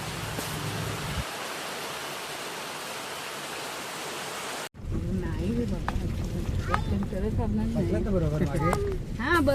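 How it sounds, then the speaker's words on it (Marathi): A dense, steady hiss of heavy rain fills the first half, then a person starts talking over the continuing downpour. "पाऊस बघू शकतात खूप भरपूर असा पाऊस आहे"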